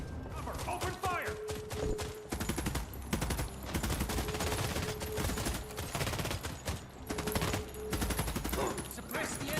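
Rapid video game gunfire, dense volleys of close, loud shots in irregular bursts with brief pauses, mixed with battle noise and shouted voices.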